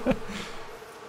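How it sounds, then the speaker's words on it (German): Bees buzz in the Far Cry New Dawn video game, a short loud burst of droning insect hum that quickly settles into a steady, fainter buzz, with no voices. "Bienen."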